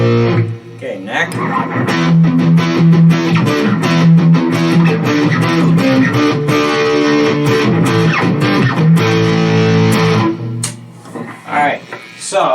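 An Epiphone Les Paul Special II electric guitar plays through distortion on the neck pickup, a loud, sustained, heavily driven tone with strummed chords and notes running continuously before trailing off near the end.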